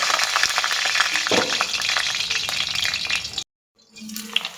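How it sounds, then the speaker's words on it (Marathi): Brinjal pieces frying in hot oil in a home kitchen, a loud continuous sizzle with stirring scrapes, broken by a brief moment of silence before the sizzling resumes more quietly. "तेलामध्ये आपण वांगी थोडी परतवून घेणार आहोत"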